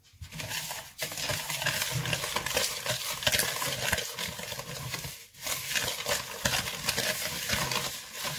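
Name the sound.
mixing tiramisu ingredients with vanilla sugar in a bowl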